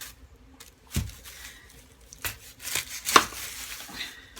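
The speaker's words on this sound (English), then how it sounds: "Now I'm going to take an onion and I'm going to cut that onion up and put it on top." Knife chopping a large onion on a board in a home kitchen, a few scattered soft cuts and thuds with a sharper crunchy stroke near the end, quiet and close.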